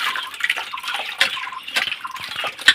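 Water splashes and drips during bathing outdoors after fishing, a close run of small, irregular wet splashes and patters.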